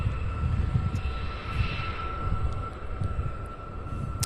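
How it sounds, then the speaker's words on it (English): A Delta Boeing 737-900 airliner on final approach to runway 18 left at Cincinnati's CVG airport gives a loud, steady jet engine roar with a thin high whine, sustained throughout and unaccompanied by talk. "Delta Flight 2151, a 5-year-old Boeing 737-900."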